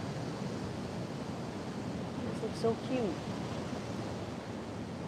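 Steady broadband surf of ocean waves washing onto a beach at sunrise, a continuous hiss-like wash with no breaks, while someone talks softly over it and faint bird chirps come through.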